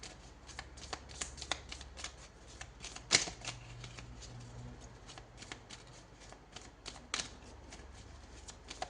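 Tarot cards are shuffled by hand during a horoscope reading: a faint, steady run of soft riffling and slapping with one sharp snap near the middle, with no talking.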